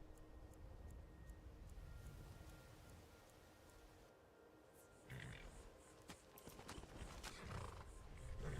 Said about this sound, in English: Sounds like our horsey showed back up.